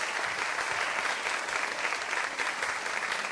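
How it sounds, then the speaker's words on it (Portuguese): Audience at an institutional talk applauding in a continuous, even burst of clapping that fills the whole stretch at steady volume. "Eu queria dar uma de palmas para ela."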